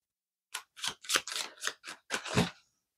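A deck of cards being cut and handled during a tarot-style reading, a quick run of about eight close, crisp papery snaps and riffles in an otherwise silent room, with no talking.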